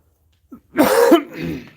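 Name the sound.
coughing and throat clearing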